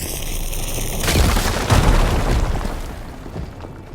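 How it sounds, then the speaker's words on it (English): A fire gleam blowing up in the video game Horizon Forbidden West: a loud booming blast that rolls and crackles for a couple of seconds before fading, following a brief high electronic tone. "Should be able to blow up that fire gleam."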